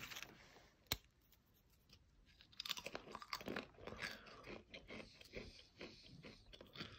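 Close crisp crunching as homemade fried tortilla chips are bitten and chewed, a run of sharp irregular crackles after an initial snap.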